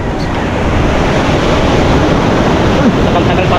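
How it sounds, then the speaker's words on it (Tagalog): Large ocean waves surge and wash in a steady, loud roar of surf mixed with wind buffeting the microphone, a continuous broadband rush with no breaks over the few seconds. "Malaki ng alon."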